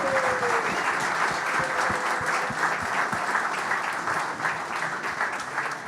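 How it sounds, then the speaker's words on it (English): Steady, dense applause from a conference audience at a craft brewing marketing panel, loud and sustained with many hands clapping throughout. "Round of applause for our first panelist."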